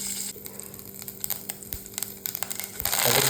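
Mustard seeds splutter in hot oil as a tempering for mango-tomato chutney: a dense crackle of small pops and snaps over a low sizzle, growing louder toward the end, close by with no talk.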